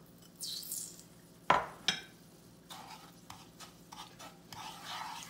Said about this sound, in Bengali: এটাকে আস্তে আস্তে নাড়তে হবে।